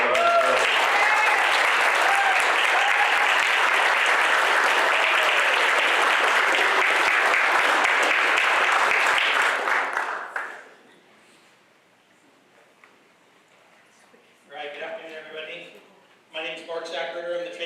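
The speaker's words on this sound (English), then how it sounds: "give it a round of applause for all of us" Loud, dense audience applause at a graduation ceremony fills the first ten seconds, then breaks off into near silence before a voice begins speaking.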